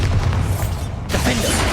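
A Bombarda spell in Hogwarts Legacy goes off as a loud, close blast with a deep boom, a dense burst of noise partway through over continuous battle rumble.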